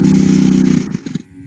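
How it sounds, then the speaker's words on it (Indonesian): A motorcycle engine drones loudly close by for about a second, then drops away with a few sputtering bursts before fading out. "ini suara motor nih."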